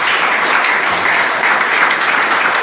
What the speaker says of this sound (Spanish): Denle un aplauso a Jesús por eso.